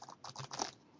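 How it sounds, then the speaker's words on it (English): A deck of playing cards riffled in a fast shuffle, giving a quick run of close, crisp papery bursts that patter for under a second and then fade out. "This is a shuffle, by the way. Just a fast shuffle."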